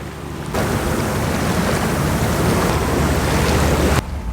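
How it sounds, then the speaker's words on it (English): A waterfall of snow melt pours down beside a granite cliff, a close, loud, continuous rushing hiss that begins abruptly and holds steady before cutting off. "There's already a waterfall right here."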